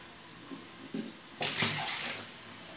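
Water running from the tap of an RO water purifier in a home kitchen, a few light drips and splashes, then a short steady gush filling a vessel close by.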